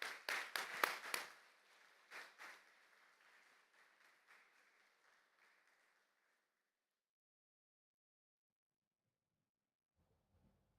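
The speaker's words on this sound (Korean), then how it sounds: "우리 감독님 나오실 때 힘차게 박수로 환영하겠습니다." A church congregation claps to welcome the pastor: a burst of loud applause that quickly thins into scattered claps and fades to silence after a few seconds, with faint stirring at the end.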